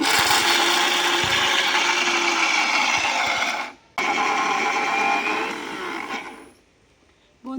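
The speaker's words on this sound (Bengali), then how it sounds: "বাদামের খোলা সমেতই আমি এখানে গুঁড়ো করে নেব ঢাকনাটা বন্ধ করে দেব দিয়ে এইভাবে মিক্সিংয়ের মধ্যে বসিয়ে দেব" An electric mixer grinder grinds whole peanuts still in their shells, a loud, steady whirring roar with a gritty rattle of shell pieces, briefly cut off and restarted, then dropping to a quieter run before stopping.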